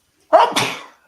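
A single close, sharp sneeze with a quick inhale burst followed by a breathy release, standing alone in an otherwise quiet moment.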